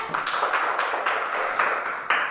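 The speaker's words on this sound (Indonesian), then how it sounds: "kita kasih tepuk tangan dulu ya" A class of students claps hands together, a dense burst of rapid, overlapping claps at fairly close range, with no talking over it.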